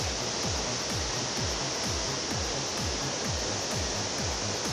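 Bangon Falls waterfall pouring as a loud, steady broadband rush, close and unbroken, with a rhythmic low thumping beneath the roar and no voices.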